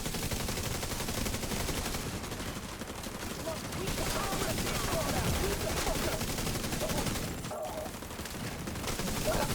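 An automated turret in a video game fires continuous rapid bursts, a dense, steady rattle of gunfire filling the scene, with players talking over it.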